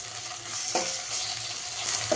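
Ginger garlic paste sizzles and fries steadily in a pan for a Telugu bitter gourd pulusu, with two brief scrapes of stirring breaking the continuous hiss, close and fairly loud with no voices.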